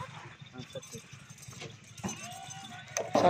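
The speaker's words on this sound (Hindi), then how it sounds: "ये 5 नंबर बकरी जा रही है" Goat hooves clopping and shuffling as a goat is led and loaded into a cargo vehicle, irregular light steps close by under ongoing speech, with a clatter and rising bustle near the end.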